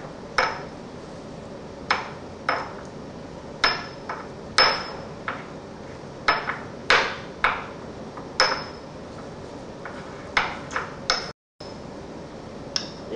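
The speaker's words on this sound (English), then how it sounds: "So I'm going to grind this using pestle and mortar." Raspberries crushed with a pestle in a mortar to draw out juice for a homemade solar cell dye: a steady series of sharp, ringing knocks and taps, roughly one to two per second, close and distinct, with no talking.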